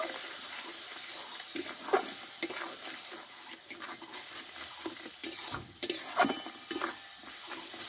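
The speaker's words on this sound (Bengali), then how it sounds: "হলুদ গুঁড়ো দিয়ে মশলাটা ভালোভাবে কষিয়ে নেব" Spiced masala with turmeric powder being stir-fried in a pan for a bitter gourd (karela) dish: a soft continuous sizzle broken by repeated scraping strokes of a spatula, close and moderately loud, with no talking.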